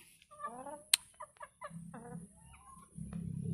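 An Oriental gamefowl hen in a backyard clucks in a series of short, nasal, rising calls, close and moderately loud, with a brief sharp chirp and some low rustling noise toward the end.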